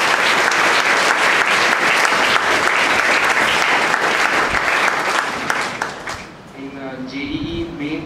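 An audience claps loudly and steadily to honour a record-breaking AIEEE exam score, the dense applause fading after about six seconds as a voice takes over.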